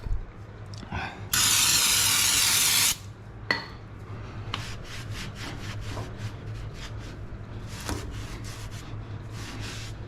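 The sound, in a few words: hose spraying water on engine to clean oil and grit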